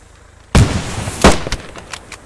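Grenade blasts in the WWII shooter Post Scriptum: a loud sharp burst, a second heavy bang about a second later, then a few lighter cracks of distant gunfire, with no voices.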